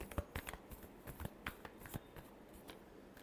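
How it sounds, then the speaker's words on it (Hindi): Tarot cards shuffled by hand, giving a quiet run of short, irregular riffling flicks and soft pattering taps in close succession, low in level with no voices. "Last shuffle."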